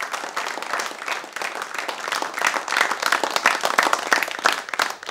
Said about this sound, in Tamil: நாம் கோடான கோடி நன்றியை கைதட்டல் மூலமாக தெரிவிப்போம்